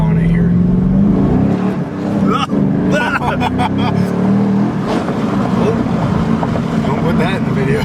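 A Chevrolet Camaro, its most track-focused version, accelerates hard with a loud, rising engine note that drops briefly at a gear change, heard from inside the car with people talking over it.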